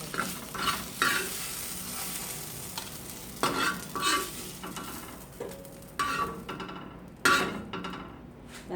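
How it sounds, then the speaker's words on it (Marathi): Onion sautéing in a pan for a village-style masala, stirred with a utensil: a soft ongoing sizzle broken by repeated scraping, knocking stirs every second or so, close and moderately loud, with no speech. "तो कांदा पण चांगला परतून घ्यायचा आपल्याला."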